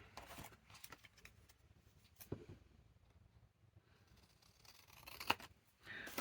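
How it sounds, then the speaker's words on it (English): Scissors trim a piece of paper while an extra-tall traveler's notebook journal is being made, giving faint, close snips and rustles over a quiet room hum, with a few sharper cuts standing out. "I'm going to cut that bit off."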